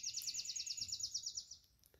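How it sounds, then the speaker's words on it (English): Birds chirping at dawn in crisp twilight air: one bird gives a fast, repeated high trill of rapid chirps for about a second and a half, fairly close and clear over a quiet background, then stops, leaving faint ambience. "the birds are waking up."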